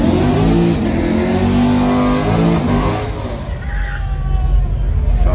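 A Dodge Hellcat Redeye at a street strip race night revs hard and close, loud steady engine roar with rising and falling harmonics, with voices faintly mixed in.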